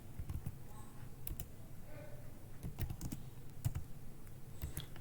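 Someone types on a computer keyboard: quick, light key clicks in irregular bursts and short pauses, close and fairly quiet.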